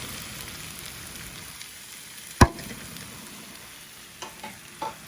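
Potatoes dropped into a hot pan for dry aloo sabzi, a soft steady frying hiss with one sharp clatter as they land, then a few light scrapes and taps near the end.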